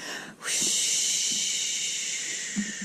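After a short breath, a voice makes a long, steady hissing whoosh imitating wind blowing, held for over two seconds and fading slightly.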